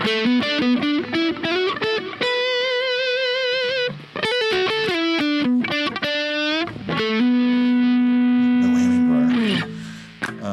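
An Ibanez GIO seven-string electric guitar with Fishman Fluence Tosin Abasi pickups, switched to a single-coil voice, plays a loud run of distinct, clean-edged notes and chords with sustained tones, close and without talk.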